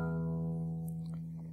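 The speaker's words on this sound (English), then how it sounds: "so let's play string 6. And it should sound like this." Open sixth string of a beginner's acoustic guitar plucked once and left ringing, a clear low note with rich harmonics that slowly fades, alone with no talk.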